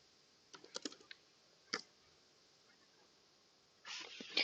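Typing on a computer keyboard comes in a few scattered, soft key clicks, then a quick burst of keystrokes near the end, all faint and close in a quiet room.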